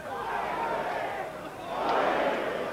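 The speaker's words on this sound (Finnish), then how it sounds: "Ja siinä yleisö huokaa." The crowd at an ice hockey game in 1985 lets out a broad, murmuring sigh that swells, dips briefly and swells again. The sound is heard from a distance across the arena.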